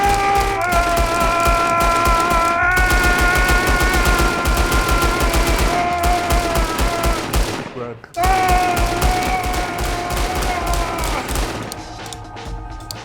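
Rapid automatic gunfire rattles almost nonstop in a Red Dead Redemption 2 shootout at night, loud and dense, with ringing game music tones underneath and a short break before the firing resumes.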